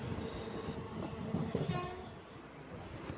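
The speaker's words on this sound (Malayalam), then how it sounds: "നമ്മുടെ വണ്ടി അങ്കമാലി റെയിൽവേ സ്റ്റേഷനിൽ നിന്ന് പുറപ്പെട്ടിരിക്കുക കേട്ടോ" A Guruvayur–Ernakulam passenger train pulls out of Angamaly railway station in Kerala, heard from on board in rain. The rumble of the rolling wagons is steady and close throughout, with a faint horn or squeal in the middle.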